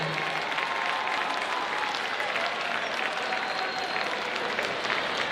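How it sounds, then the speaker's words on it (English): A banquet audience applauds award recipients at a foundation event, steady dense clapping sustained and moderately loud throughout, with faint crowd murmur underneath. "One more round of applause for tonight's recipients, Nancy, Dick, and Dr. Berry"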